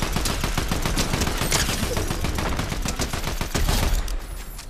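Fortnite Zero Builds gunfire: a rapid, loud burst of automatic weapon shots in a dense rattling stream, nearly continuous for several seconds before tapering off, no talk over it.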